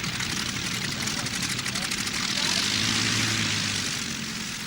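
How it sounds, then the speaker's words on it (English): Propeller engines of a Junkers 52 transport plane drone steadily and loudly throughout, a continuous throbbing roar with a voice faintly underneath. "a full squadron of Junkers transport planes to airlift the Spanish Army of Africa from"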